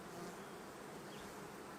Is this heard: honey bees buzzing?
yes